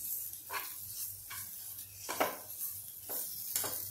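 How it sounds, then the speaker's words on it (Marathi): Gram flour roasting in oil in a pan, stirred with a spoon, giving faint periodic scraping strokes over a low steady hum and soft sizzle. "हे बेसनही या तेलात वास येईपर्यंत आपल्याला छान भाजून घ्यायचं आहे"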